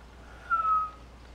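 A young child whistles one short, thin note of about half a second, wavering slightly in pitch, alone over a quiet room background.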